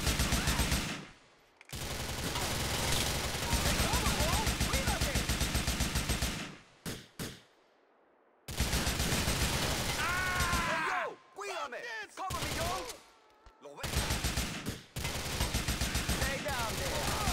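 Rapid automatic gunfire from GTA IV, loud bursts sustained across most of the span with short silent breaks, someone talking at times beneath the shooting.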